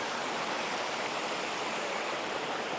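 A rushing mountain river in Puerto Rico, a steady dense roar of churning water close by, unbroken and loud throughout with no voices.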